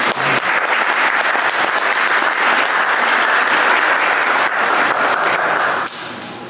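Audience applause after a traditional Wyandot storytelling session, steady dense clapping from a crowd that holds for several seconds before tapering off, with no talk over it.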